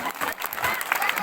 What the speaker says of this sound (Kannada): ಚಪ್ಪಾಳೆ ಹೊಡ್ಸ್ಬಿಡ್ರಿ